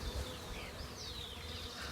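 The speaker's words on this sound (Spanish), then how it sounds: "chupan la miel que vamos a ver las abejas" Bees buzz around honey in a close, steady, insistent hum that holds for a brief moment, with no voices.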